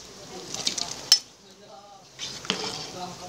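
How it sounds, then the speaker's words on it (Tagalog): Ginataan with saba banana and sweet potato is stirred in a pot, giving scattered utensil scrapes and clinks against the pot over a soft bubbling simmer, with a few louder knocks. "Medyo haluin natin."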